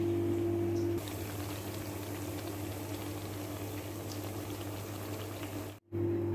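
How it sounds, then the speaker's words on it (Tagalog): Vegetable kabab fries in hot oil with a steady, dense sizzle and bubbling close by, continuous throughout with a brief dropout near the end and no talking. "Pero okay lang kasi madali lang naman siyang prituhin"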